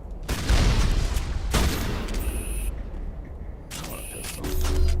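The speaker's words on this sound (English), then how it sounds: "I see the benefit of sniper rifles" Sniper rifle fire in the space shooter game Mass Effect, three heavy booming shots a second or so apart, each followed by mechanical reload clatter and electronic tones.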